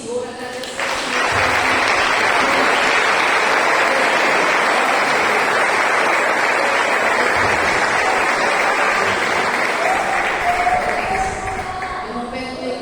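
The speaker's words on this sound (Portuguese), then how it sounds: "Aplaudir o Senhor, agradecer o Senhor" A church congregation bursts into loud, sustained applause, many hands clapping together for over ten seconds before fading slightly at the end.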